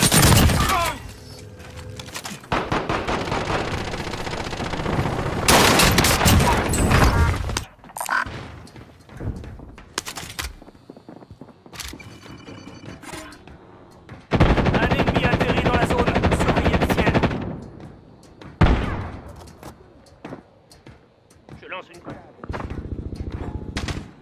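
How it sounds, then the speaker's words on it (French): Bursts of automatic gunfire from Call of Duty: Warzone, season 6, with a Hauer 77 loadout, erupt loudly in several separate volleys with quieter gaps between them. Someone talks in French between and over the shots. "On me tire dessus"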